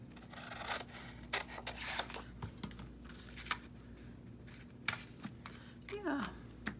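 Scissors cutting paper for a dragonfly journal: a series of soft, close snips and paper rustles in an irregular rhythm, with a faint steady background hum and a short voice near the end.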